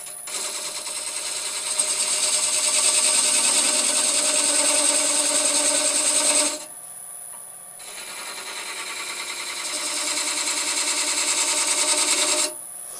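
Wood lathe turning with a skew chisel, a loud buzzing, rattling cut that runs for several seconds, breaks off briefly, then resumes at similar strength before stopping again.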